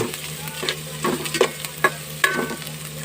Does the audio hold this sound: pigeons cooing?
no